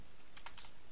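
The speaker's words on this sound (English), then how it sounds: "I'm just going to type" A few quick keystrokes on a computer keyboard while entering code in Android Studio, soft clicks heard close and alone in a brief, quiet burst.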